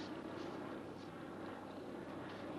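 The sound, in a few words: NASA jet aircraft flying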